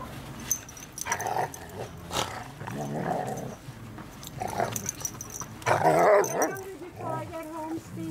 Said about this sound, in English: from the minute they saw each other, they started doing this. Having a great time, rumbling.